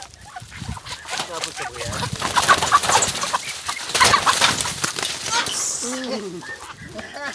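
On a farm, ducks give loud, raspy fowl calls up close while they are chased and caught, and people talk and shout over the squawking throughout.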